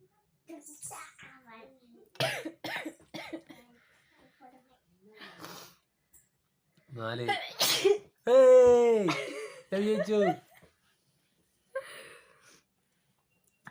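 A few sharp, bursty sneezes or sneeze-like snorts break up stretches of a voice talking and laughing nearby during a sneezing challenge.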